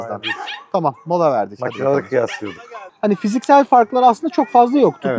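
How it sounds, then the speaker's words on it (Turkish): Dog barking outdoors in the background while two people talk in Turkish, the yips and barks mixed under nearly continuous speech. "İnşallah şu köpek sesleri gelmiyordur bu kadar."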